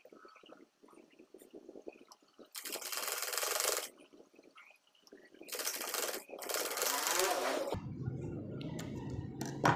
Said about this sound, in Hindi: और यहाँ पर हम सिलाई लगा लेते हैं।